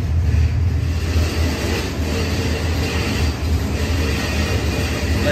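LS V8 engine running on a dyno produces a loud, continuous low drone with a steady pulsing rumble, close and uninterrupted throughout.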